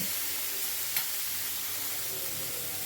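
Ginger garlic paste fries in a pan while being stirred, a dense continuous close sizzle with one brief scrape, no voices.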